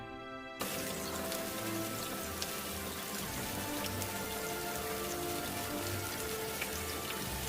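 Rain pours steadily into a freshly dug village pond in a cartoon, a dense continuous patter of drops that starts abruptly and stays loud and even to the end.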